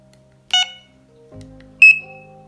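Two short, high-pitched electronic beeps from a FOX fishing bite alarm, spaced about a second apart, with a quiet low hum in between.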